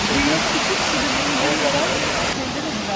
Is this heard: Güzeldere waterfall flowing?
yes